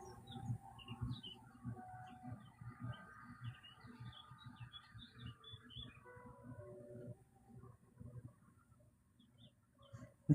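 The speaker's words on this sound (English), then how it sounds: "Turn the chirpy birds down a tick." Small birds chirp and tweet in short, scattered calls throughout, faint and mid-distance, over a steady low rumble of background noise while no one speaks.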